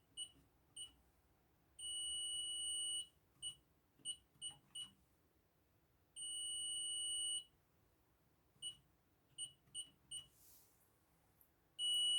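An alarm panel emits a series of short electronic beeps in irregular bursts, with two longer sustained tones, fairly faint against a quiet room and no talking.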